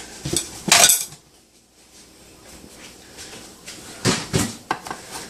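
A spoon and fork press and scrape a no-bake granola bar mixture into a container, with a loud clattering burst early on, a quieter stretch of soft scraping, then more clinks and knocks near the end.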